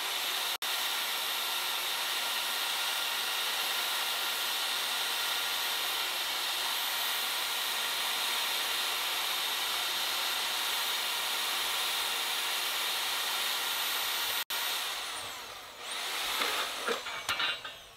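An affordable metal-cutting power tool dry-cuts metal with a loud, steady high-pitched whine and grinding hiss held almost unbroken for about fifteen seconds, then cutting out and leaving brief clattering and rustling.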